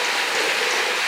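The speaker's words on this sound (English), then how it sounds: "It's coming down, but it's just like small rain, like light," Light rain falls steadily on a pond, a dense, even hiss of small drops hitting the water, close and fairly loud, with no voices.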